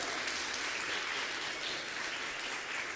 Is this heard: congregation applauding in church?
yes